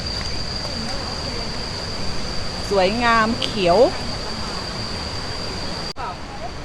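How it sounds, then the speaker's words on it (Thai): Mae Sa waterfall near a resort in Thailand gives a steady rushing hiss of falling water, moderately distant, with people briefly talking over it. "มองลงไปก็จะเห็นน้ำตก แล้วก็ได้ยินเสียงน้ำตก"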